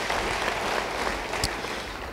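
A congregation applauding at a church service, a soft, continuous wash of many hands clapping at a distance, with one sharper click standing out briefly.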